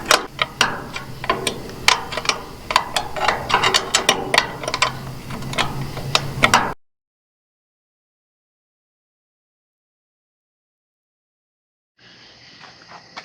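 A trailer light mount is tightened down by hand, a rapid run of close metallic ratcheting clicks for several seconds, then silence and a faint low hum, without talk.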